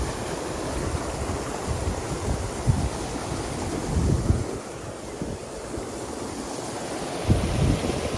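Water gushing from irrigation pump motors into a paddy field, a continuous rushing roar with wind buffeting the microphone, heard up close with no talk.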